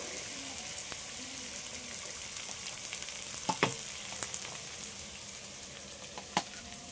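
Carrots and beans fry together in a pan with salt, producing a soft, continuous sizzle with a few faint clinks and scrapes from stirring.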